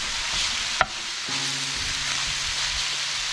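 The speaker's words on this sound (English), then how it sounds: "And then you just want to give it a good stir." Shredded pumpkin being stirred in a pot as it cooks with the lid off, a steady close sizzle and scrape with one sharp clink early on.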